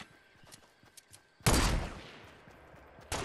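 Gunfire in Fortnite Battle Royale: a few light scattered shots, then a loud sudden burst of rapid automatic fire that decays into a rumble, with another sharp shot at the end.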